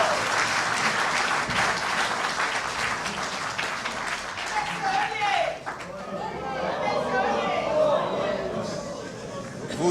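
A large audience applauds at the closing speech of an RHM party symposium in Gabon, a dense sustained clatter of clapping that stays loud throughout, mixed with crowd chatter.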